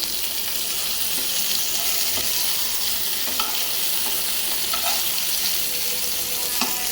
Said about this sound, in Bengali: তেলাপিয়া মাছও ভাজি হবে